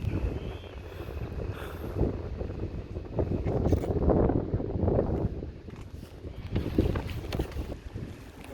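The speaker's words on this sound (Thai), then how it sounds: "บนนี้ลมเย็นมากเลย" Wind buffets the top deck of a boat, a continuous rough roar of gusts hitting the microphone that swells and eases in waves, with no talking over it.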